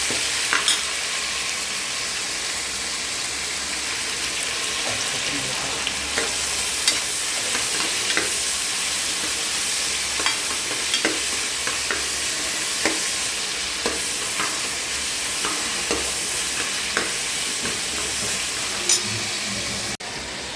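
Chicken sizzles steadily in oil in a home kitchen pan, a continuous close frying hiss broken by repeated scraping clicks as it is stirred.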